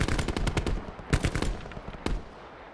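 Gunfire in Call of Duty Blackout rattles off in a rapid automatic burst, close and loud, followed by a couple of separate single shots with short decaying tails.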